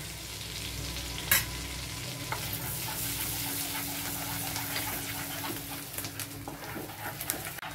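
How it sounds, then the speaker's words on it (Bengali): Whole cumin and garam masala crackle and sizzle in hot oil and butter, a steady close frying hiss with a sharp clink near the start and small stirring clicks throughout. "এবারে গোটা জিরে আর গরম মশলা ফোড়নে দিয়ে দিলাম।"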